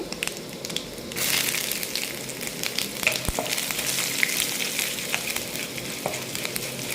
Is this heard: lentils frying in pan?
yes